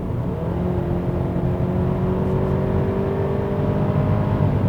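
A Hyundai Palisade with the 2.5 gasoline turbo engine accelerates hard in sport mode. Its loud, steady engine roar holds at high revs from inside the cabin with a rising whine layered over it, and no one speaks.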